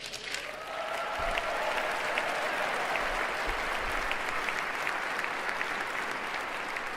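A crowd at Donald Trump's inauguration speech breaks into sustained applause, steady clapping that swells after the first second and continues evenly, with a faint voice beneath at the start.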